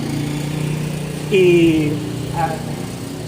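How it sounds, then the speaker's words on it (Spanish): A GrabFood delivery worker's motorcycle idles nearby, a mid-pitched engine drone that rises briefly as it pulls away, while a voice speaks over it. "se va uno con la moto, lo escuchamos"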